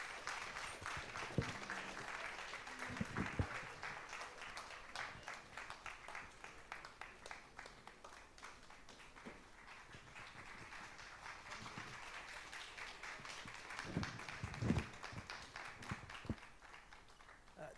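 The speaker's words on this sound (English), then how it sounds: "With a round of applause, please, let's welcome him." Audience applause at an official launch event welcoming a speaker, a continuous field of clapping with scattered louder claps and a brief swell near the end, fairly quiet and distant.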